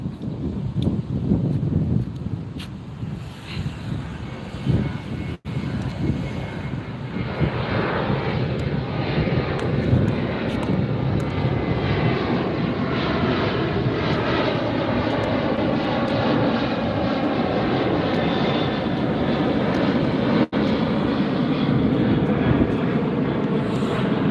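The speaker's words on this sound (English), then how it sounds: "Next up, Southwest, headed to Oakland, flight 2146." A Southwest Airlines jet departing LAX for Oakland, a loud sustained engine roar that swells and holds over tens of seconds, heard outdoors at a beach with some wind and no talking.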